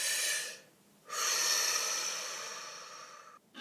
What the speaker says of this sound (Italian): facciamo un bel respiro.